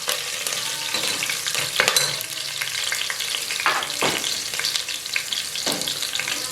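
Chopped green chillies sizzle and fry in oil in a pan while masala aloo pulao is being made, a steady close crackle with occasional stirring scrapes and no talk.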